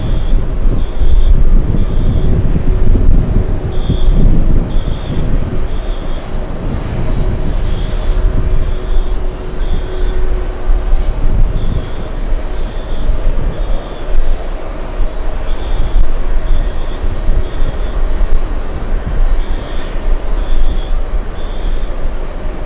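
A large airplane at JFK Airport roars loudly and continuously, its engine rumble mixed with heavy wind buffeting on the microphone throughout.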